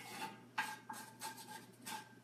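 Wooden spoon scraping and stirring food frying in a pan, a series of soft rasping strokes over a faint, steady hum.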